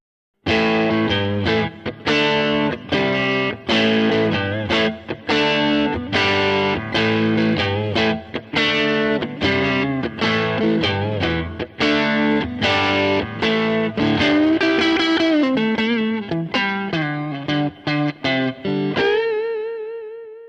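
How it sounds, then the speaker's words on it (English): Electric guitar through a Fender Bassman amp with a Klone Centaur overdrive pedal plays a steady rhythmic riff of chords, loud and warm with mild crunch, ending on a ringing sustained note. "Hear the Bassman with a Klone Centaur in front."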